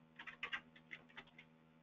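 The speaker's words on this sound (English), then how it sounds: "And I'll type in my password." A password is typed on a computer keyboard as a short, faint burst of about a dozen quick key clicks in an otherwise quiet room.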